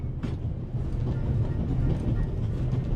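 A steady low rumble and rattle of a train rolling along fills The Raven Remastered game scene, continuous and moderately loud throughout.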